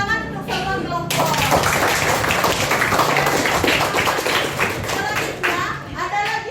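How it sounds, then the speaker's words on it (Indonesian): Students in a classroom clapping for all the student groups, a lively burst of hand claps and taps with children's voices mixed in, starting after a brief spoken moment. "Tepuk tangan untuk semua kelompok."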